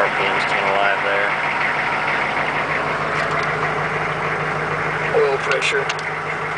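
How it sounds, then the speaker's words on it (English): A 2003 Hummer H1 engine fires up and settles into a steady, rumbling idle, close and constant while a person speaks briefly over it. "I'll go ahead and start the vehicle so we can see the RPMs came alive there."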